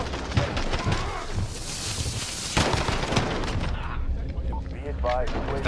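Rapid pistol and gunfire bursts in the Modern Warfare video game, sharp repeated shots with explosive booms in a dense firefight, a voice speaking over the shooting.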